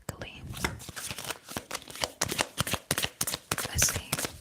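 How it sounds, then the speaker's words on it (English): Tarot cards are shuffled close up in a quiet ASMR setting, giving a rapid series of crisp riffling snaps and soft papery slides, with faint whispering underneath. "Let's shuffle and see exactly."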